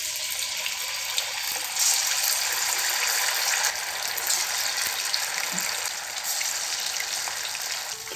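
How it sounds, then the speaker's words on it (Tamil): Chicken pieces for chicken 65 frying in hot oil in a kadai over a low flame, giving a loud, steady, close sizzle that holds throughout without pause. "கடாயில் எண்ணெய் ஊற்றி, எண்ணெய் நல்லா காஞ்சதுக்கப்புறமா லோ ஃப்ளேமில் மாற்றி இந்த சிக்கன் ஒன்று ஒன்றா போட்டுடலாம்"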